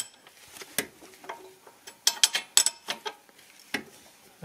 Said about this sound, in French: on va essayer de serrer avec la clé qui va bien